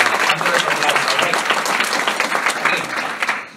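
Sustained applause from an audience at a business talk on sponsoring, dense clapping filling the room at steady loudness for a few seconds before tapering off.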